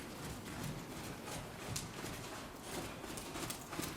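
A ridden horse moving collected in self-carriage, its hooves giving soft rhythmic clip-clop beats over steady outdoor background noise, fairly faint and without talk.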